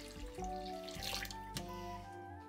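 Running water splashes and swirls as homemade butter is washed by hand in very cold water in a basin, a close, steady wash with a couple of small knocks.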